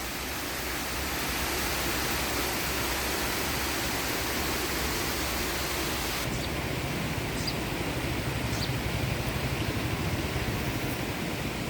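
A river waterfall running with low water gives a constant, even roar of rushing water that stays steady and fairly loud from start to finish, with no other sounds standing out.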